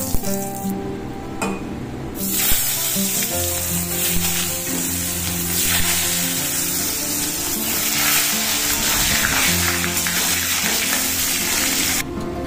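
Salt and turmeric hit hot oil in a pan, giving a steady loud sizzle and bubbling hiss that lasts throughout, with a few light clinks of utensils.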